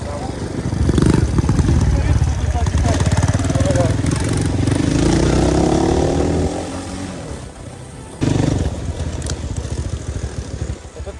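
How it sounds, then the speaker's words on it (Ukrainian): A motorcycle engine runs loud and close as the rider parks, droning and shifting pitch before a sudden cut and restart near the end. "паркуємо мотоцикла"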